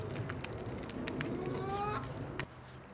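Hens cluck in a barn or coop, with repeated short calls over a steady background hum, close and moderately loud, before the sound drops abruptly near the end.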